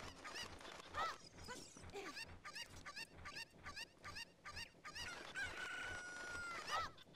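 Agitated chickens in the video game Zelda Ocarina of Time, a rapid run of sharp repeated clucks and squawks with a longer crowing cry near the end, fairly faint, no voices.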